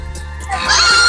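A goat among farm animals lets out a single short, loud, wavering bleat close by, rising in strength toward the end, with no speech.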